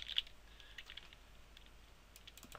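Quiet computer keyboard typing while entering code, light rapid clicks of the keys close by, faint and without talk.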